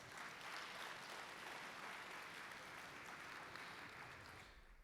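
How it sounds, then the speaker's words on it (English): Conference attendees at a world congress panel give a warm round of applause, a faint, distant, continuous patter of many hands that holds evenly and thins slightly toward the close. "Let us give Ricky a warm round of applause"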